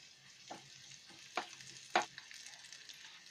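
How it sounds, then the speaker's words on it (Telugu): Tempering spices crackle in hot oil: a faint, low sizzle with a few short scraping bursts of stirring, quiet overall and without any voices. "ఆయిల్ వేడెక్కిన తర్వాత తాలింపు దినుసులు వేసి వేయించుకోవాలి"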